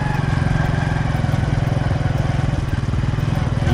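A motorcycle rides along a country road past mustard fields, its engine thrumming loud and steady close up with a fast pulsing beat and constant wind rush.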